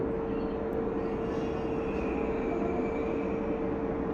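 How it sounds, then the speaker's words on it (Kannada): A Namma Metro train running on the Bengaluru line, a steady rumbling drone with a constant tonal hum, unchanging in loudness throughout and heard without talk. "ಸದ್ಯಕ್ಕೆ ಚಾಲ್ತಿಯಲ್ಲಿರೋ ಮೆಟ್ರೋ ಇದು"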